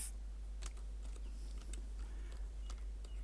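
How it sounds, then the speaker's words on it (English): Someone types on a computer keyboard, producing a few faint, scattered key clicks over a steady low hum, with no voices. "In your browser, type in Second Life."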